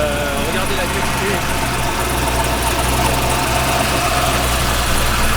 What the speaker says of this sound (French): c'est une M3 avec un V8 LS3 de Corvette